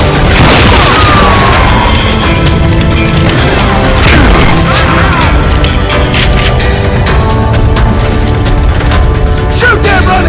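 Gunfire and chaotic combat effects in the Western shooter game GUNSlinger: loud, continuous clattering bangs, booms and crashing impacts layered with game music and effects, dense and relentless throughout.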